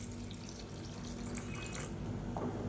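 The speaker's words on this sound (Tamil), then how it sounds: "இப்போ இதில் தேவையான அளவுக்கு தண்ணி சேர்த்துக்கலாம்" Water poured into a pan of tomato and coconut-paste sambar, a continuous soft rushing splash heard close and steady with a faint dripping near the end, no voices.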